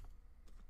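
A password being typed on a computer keyboard: a few quick, soft key clicks in a brief burst, quiet and close with no talking.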